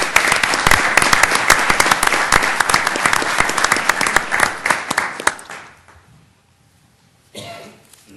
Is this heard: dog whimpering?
no